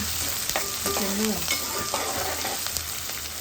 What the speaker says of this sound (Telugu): తాలింపు గింజలన్నీ మంచిగా మగ్గాయండి ఆయిల్లో